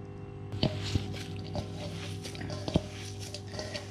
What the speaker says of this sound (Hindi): नारियल और मिल्क मेड मैंने अच्छे से मिक्स कर दिया है